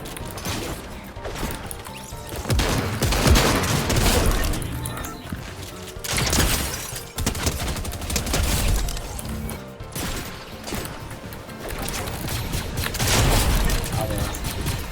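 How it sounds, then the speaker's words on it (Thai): Rapid bursts of laser gunfire and impact crashes come from a Fortnite match and repeat throughout, loud and dense, with a voice talking over the game action. "เอาเลเซอร์ยิงกูมาอีกแล้ว"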